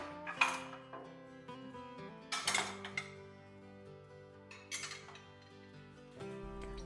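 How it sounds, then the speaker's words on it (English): Wooden and large ceramic platters set upright into a plate rack, giving several light clinks and knocks at irregular intervals against a quiet room with faint background music. "The wooden platters and large ceramic platters will be stacked vertically in the plate rack for better"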